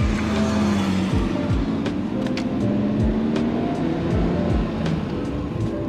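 A Nissan GT-R engine drones steadily from inside the moving car, loud and close, with a low rumble, shifting tones and a few sharp clicks and thumps throughout.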